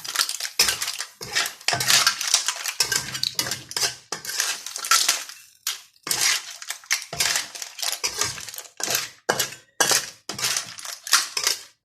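Striped clams dry-roasting in a pan over a gas flame, their shells clattering and rattling against the metal in repeated close bursts as they are tossed and stirred.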